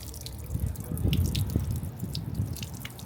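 Water from a watering can or hose patters and drips onto lavender plants outdoors, a close, steady spatter with low rumbling underneath and no talk.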